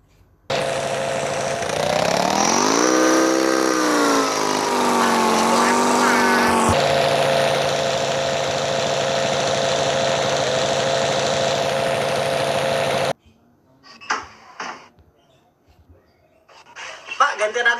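A motorcycle engine runs steadily and loudly, revving up briefly near the start, then cuts off, leaving quieter scattered noises.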